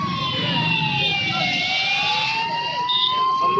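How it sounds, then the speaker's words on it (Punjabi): A wailing ambulance siren sweeps up and down steadily throughout, loud and fairly close, with faint traffic noise underneath. "ਐਂਬੂਲੈਂਸ ਆ ਗਈ ਹੈ"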